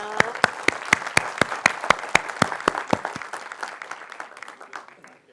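An audience at a felicitation ceremony claps in a strong, steady unison rhythm, loud and close at first, then loosening into scattered claps that fade toward the end.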